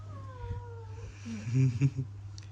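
A cat gives a few short meows and a drawn-out caterwauling cry, close by over a low steady background hum, with no one talking.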